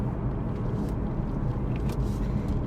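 A car's exhaust heard from inside the cabin, a steady low rumbling drone with a muffled, even hum and no talking.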